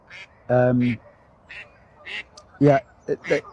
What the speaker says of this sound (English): the ducks, who are very noisy today, They're looking for food.